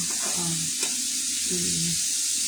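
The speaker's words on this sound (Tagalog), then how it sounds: "Ayan nga yung manok na hiniwa kanina. Prito na niya." Chicken sizzles and crackles loudly in hot oil, a steady frying hiss throughout, with occasional stirring or clinking.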